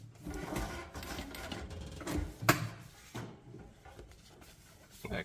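A sewing machine stitches a shirt collar with an uneven, close mechanical whir and rattle, broken by a sharper clack and some handling noise.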